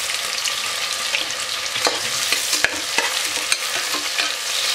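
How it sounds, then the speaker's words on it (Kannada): Sliced onions frying in hot oil for chicken biryani, a steady close sizzle with occasional stirring clicks and scrapes from a utensil in the pan. "ಒಂದು 4-5 ನಿಮಿಷ ಇದನ್ನು ಫ್ರೈ ಮಾಡಿ ಈರುಳ್ಳಿ ಸ್ವಲ್ಪ ಮೆತ್ತಗಾಗಬೇಕು."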